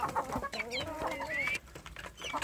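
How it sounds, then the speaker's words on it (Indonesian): Free-range village chicks cluck and cheep in a busy, overlapping chorus, several small birds calling close by in quick irregular bursts that thin out briefly before picking up again. "anak ayam kampung saya ini akan saya lepas di umbaran"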